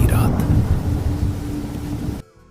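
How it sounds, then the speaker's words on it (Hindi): A heavy night thunderstorm on the first rainy night of a Hindi horror story: a loud, deep rolling thunder rumble with rain hiss that cuts off abruptly near the end. "बारिश की पहली रात।"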